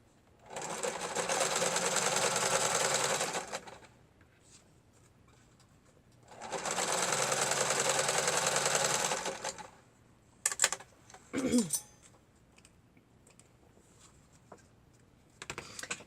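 Two long bursts of a sewing machine whirring rapidly as it stitches through paper, each lasting a few seconds, separated by quiet, followed by a few brief clicks and rustles.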